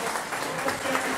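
Wedding guests clap for the bride's and groom's parents, a short burst of steady, fairly close applause with voices mixed in.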